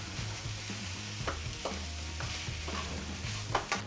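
Kimchi fried rice with dehydrated rice stirred in a hot pan, a steady sizzle broken by several scraping spatula strokes.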